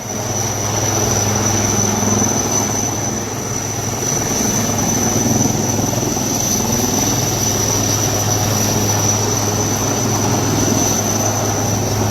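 Two rescue helicopters work over flood-hit ground near Kathua and Lakhanpur, lifting stranded people out; a loud, unbroken rotor drone fills the air for the whole stretch.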